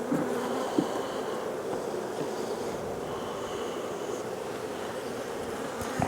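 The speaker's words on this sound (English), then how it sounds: "let's go ahead and wrap up this hive here that we have opened up" Honey bees swarm around an opened hive during beekeeping work, a dense continuous buzzing drone filling the background, with a few soft knocks and rustles close by.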